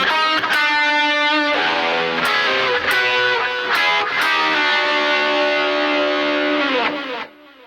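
Distorted electric guitar plays the next section of a song, a loud, steady run of driving picked notes with sharp accents, ringing out alone before cutting off near the end.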